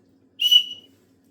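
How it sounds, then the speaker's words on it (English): A single short, shrill blast from a small survival whistle built into a compass wristband from a bugout bag kit, close and clear against near silence, lasting under half a second. "it also comes with a whistle"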